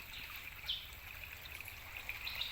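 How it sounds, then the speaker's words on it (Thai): A small stream of water trickles and babbles steadily, a continuous faint flowing hiss with no voices. "ลำธารเล็กๆนะครับ น้ำไหลมาครับ"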